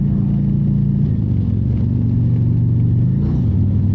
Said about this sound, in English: now we'll goose it. This Warp 14 engine moves this bike very well.